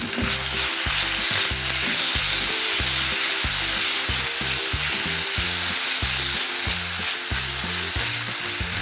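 Marinated beef is stir-fried in a wok, a loud dense sizzle filling the space alongside rhythmic tossing and scraping strokes of a utensil against the metal, steady and close with no talking.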